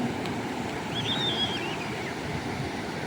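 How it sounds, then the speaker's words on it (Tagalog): Ocean waves swell and wash in a steady, soft roar of surf mixed with wind noise on the microphone, faint and continuous with no voices. "lumalaki na yung alon"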